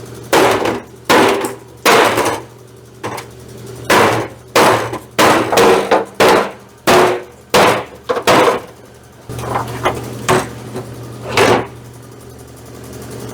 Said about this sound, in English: we're gonna do a wee bit of body work, and by body work I mean whoop on it with a big old hammer